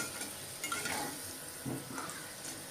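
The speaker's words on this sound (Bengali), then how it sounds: "আলুটা যত ভাজবেন চিকেনে, মানে উপরে ক্রিস্পি হবে" Potato pieces frying in a pan for chicken curry, giving a steady low sizzle with a few stirring scrapes of a spatula against the pan; no one speaks.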